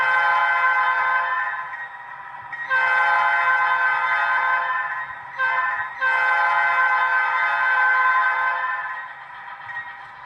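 HO scale ScaleTrains Dash 9 model locomotive sounding its horn, a loud steady multi-tone chord blown in two long blasts with a brief cut between, over a low motor hum.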